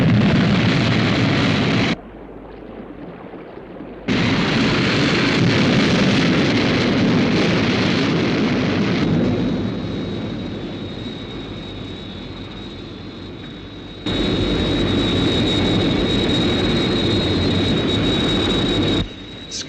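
The Sky 1 interceptor aircraft lifts off in a special effect from the TV series UFO, a loud, roaring jet blast that drops out briefly, returns and rumbles on, with a high whine in the later stretch.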